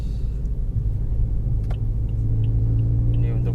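A Toyota Vios car with a 1500 cc engine hums with a low, steady rumble from inside the cabin, rising slightly as it accelerates, with a voice speaking faintly over it.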